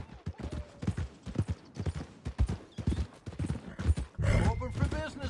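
Horse hooves clip-clop in Red Dead Redemption 2 near the stables in the town of Valentine, irregular thuds mixed with game dialogue, ending in a louder rustling burst.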